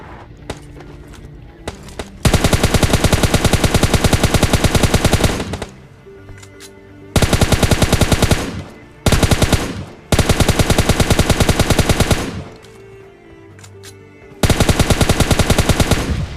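Loud automatic gunfire from the mobile battle royale game PUBG Mobile Lite: several long, rapid bursts of shots, separated by short quieter gaps with game ambience, close and dominant throughout.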